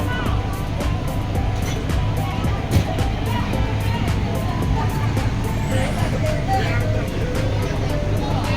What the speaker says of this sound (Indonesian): Suara mesin jeep